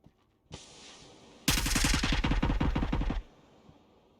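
Silenced AUG rifle firing in a competitive video game match, a rapid automatic burst of about fifteen sharp, loud shots lasting over a second, following a brief hissing noise.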